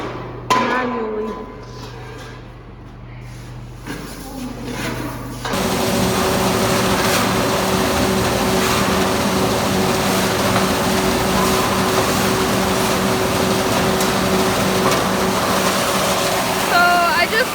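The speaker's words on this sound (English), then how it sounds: "So I just started the auger." A grain bin auger starts up during bin clean-out, moving from quiet clatter and voices into a loud, steady mechanical rattle and hum that persists nearby, with people talking over it.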